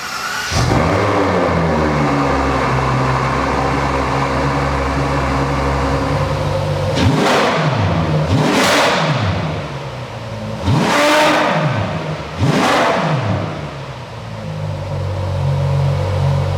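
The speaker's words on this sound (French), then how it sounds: "Et ce son complètement d'origine sur la F12 TDF du V12 Atmo, il est juste incroyable." Ferrari F12 TDF with a naturally aspirated V12 starts and revs in a showroom, a loud steady idle broken by four sharp rising blips of the throttle, each roaring up and falling back, heard up close with no talk.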